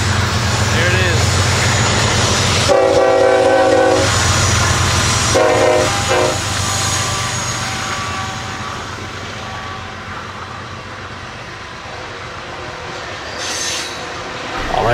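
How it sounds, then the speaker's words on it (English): A train passes near a wooded trail, rumbling loudly as it goes by. Two bursts of its horn cut through a steady clatter of wheels and rail noise that slowly fades, then squeals again near the end. "Here comes the train."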